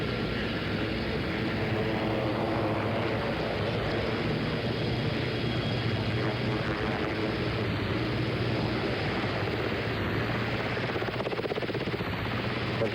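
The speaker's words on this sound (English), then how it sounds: "President Nixon's helicopter going over the fountains of the White House South Lawn, over the back black fence, high over the ellipse" President Nixon's helicopter rises over the White House South Lawn, its rotor and engine roar loud and continuous, throbbing steadily for over ten seconds.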